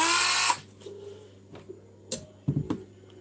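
A high-pitched cordless Dremel rotary tool whines briefly at the start, then stops, followed by a few scattered clicks and handling knocks.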